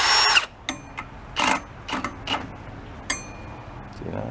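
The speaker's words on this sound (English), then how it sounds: "Come on, drill." A power drill spins in short, stuttering bursts against a seized Chinese generator engine. It sounds close and fairly loud, with pauses and a low mechanical rumble between the whirring pulses.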